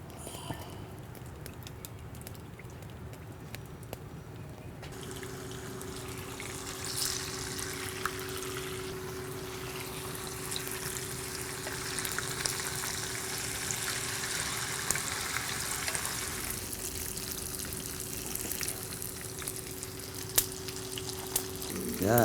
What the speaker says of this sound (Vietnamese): Tôi sẽ cho dầu vào để tôi rán đậu.